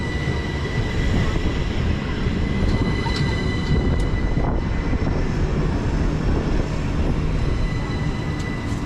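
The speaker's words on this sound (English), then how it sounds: "arriving in now is going to be the 1544 Southeastern service from London Charing Cross to Hastings" A Southeastern electric multiple unit, the 1544 service from London Charing Cross to Hastings, pulls into St Leonards Warrior Square station, a steady loud rumble and whine of the train running in close by with no talk over it.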